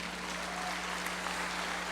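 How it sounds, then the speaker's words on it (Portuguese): A congregation claps in church, soft and fairly distant, a steady patter of applause over a constant low hum. "Pode aplaudir"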